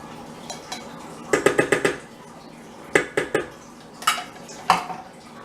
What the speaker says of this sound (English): I'm just going to get a spatula and stir this around.